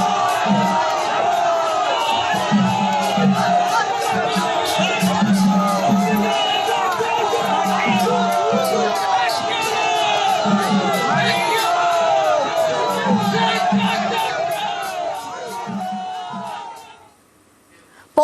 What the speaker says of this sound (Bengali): শুভেন্দু অধিকারীর মিছিল যাওয়ার সময় পদ্মকর্মীদের স্লোগান।